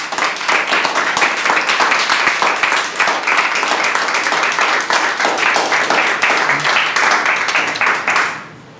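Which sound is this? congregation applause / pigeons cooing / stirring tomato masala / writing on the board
congregation applause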